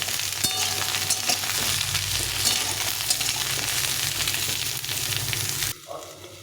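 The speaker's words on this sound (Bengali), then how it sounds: "এখানে লাউ দিয়ে দিলাম, পেঁপে কোয়াশ আর সজনে ডাঁটা দিয়ে সবটাকে একসঙ্গে ভেজে নিতে হবে।" Bottle gourd, papaya, squash and drumstick stems frying together in a pan make a loud, continuous sizzle with light stirring scrapes, which drops away abruptly just before the end.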